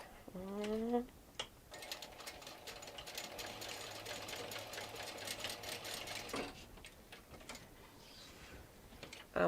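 A sewing machine stitches across a fabric sling in one sustained, rapid run lasting several seconds, quiet and close, with a brief voice before and after.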